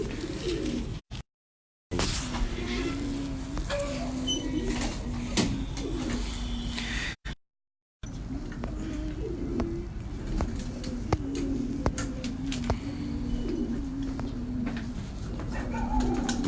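Lakha pigeons, a cross-breed pair, coo in repeated low rolling phrases close by, steady throughout with a couple of brief dropouts and faint background bustle.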